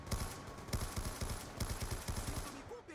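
A light machine gun in a video game rattles off rapid automatic bursts, loud and close, with brief pauses between strings of shots over a dense game background.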